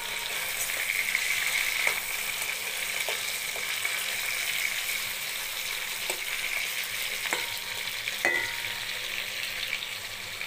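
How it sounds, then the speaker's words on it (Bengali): Hilsa fish pieces frying steadily in hot oil in a pan, a continuous close sizzle with a few soft clicks and knocks as the pieces are turned over. "এক মিনিটের মতো তেলের মধ্যে মাছটা রেখেছি, তার আবার দুবার পাল্টি করে নিয়েছি।"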